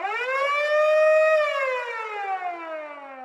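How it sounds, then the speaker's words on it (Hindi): Air-raid siren wailing at a naval base during a bomber attack, a single sustained rising tone that holds steady and then slowly falls in pitch, loud and alone. "सुबह के ठीक 7:57 पे डोरिस को एक सायरन सुनाई देता है।"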